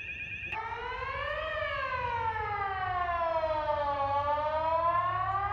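A loud wailing tsunami warning siren in Malta, its multi-toned pitch rising then slowly falling and climbing again in a long sustained sweep.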